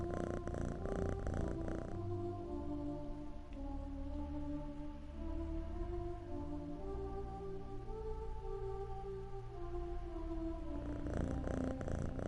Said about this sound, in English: Purr.